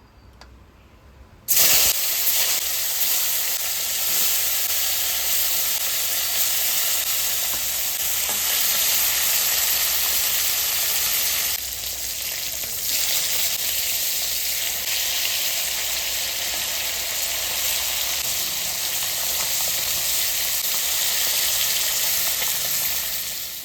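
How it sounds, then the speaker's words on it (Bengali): Fish rubbed with salt and turmeric sizzles and spatters in hot oil in a wok, a steady loud frying hiss that begins abruptly and continues without pause, with occasional stirring. "মাছটা ভেজে নেব"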